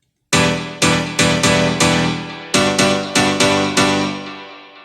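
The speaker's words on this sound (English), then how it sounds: "it's a really huge stack of compressors and saturation, EQ to really make it more bright and more powerful." Bright, powerful piano house chords run through stacked compressors, saturation and EQ, hit in a punchy repeating rhythm of loud stabs that ring and fade between hits, with no voices.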